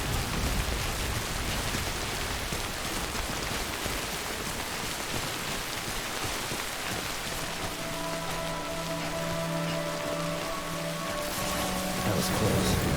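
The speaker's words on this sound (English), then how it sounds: "Is it because of the rain?" Rain in the video game Death Stranding, a dense, steady hiss of drops that stays loud the whole time, with sustained tonal music rising under it in the second half.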